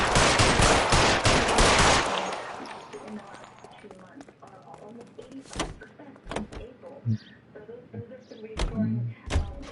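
Gunfire in the video game L.A. Noire, a dense burst of loud shots packed into the first two seconds, then scattered sharper single cracks amid game noise and movement.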